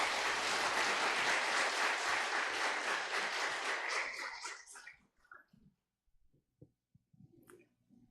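A church congregation gives warm applause, a dense roar of clapping for about four seconds that fades out, leaving a quiet room with a few faint shuffles.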